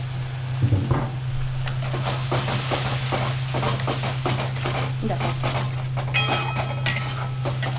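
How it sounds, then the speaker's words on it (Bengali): Masala spices with coriander powder frying in a pan for dum aloo, with a steady sizzle and busy stirring scrapes over a constant low hum, while a voice talks. "এটা একটুখানি আমি মশলাটা একটু ভাজা ভাজা করি।"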